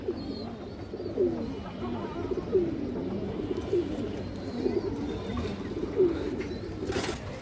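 A female pigeon cooing in a steady series of soft, low, rolling calls, about one every second, close and fairly quiet against a faint background.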